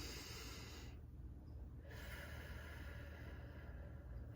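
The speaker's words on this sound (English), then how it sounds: "Take a deep breath in." A single long, steady breath drawn in through the nose, hissy and close, over a constant low background hum.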